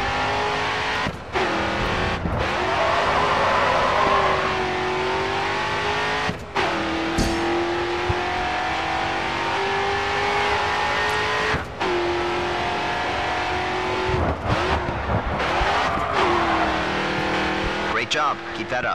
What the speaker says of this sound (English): Continue to turn and the back end will begin to slide out. You'll need to get back on the gas to carry the drift.